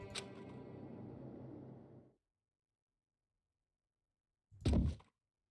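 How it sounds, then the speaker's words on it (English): A single heavy thud echoing through a courtroom in the Danganronpa video game, sounding once near the end after a stretch of silence that follows a dense rumbling passage. "A huge thud echoed across the courtroom"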